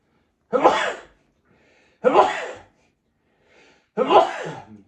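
Three sharp sneezes, each a sudden explosive burst with a breathy tail, spaced about a second and a half apart, close and loud with quiet between.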